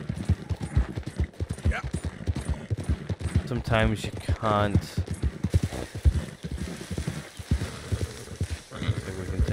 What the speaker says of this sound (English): I think we can take our horse down here.